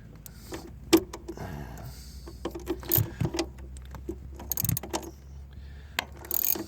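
A ratchet works a 10 mm nut off the negative battery cable of a GMC Acadia-family SUV, giving close, irregular metallic clicks and clanks with small tool knocks and no talking.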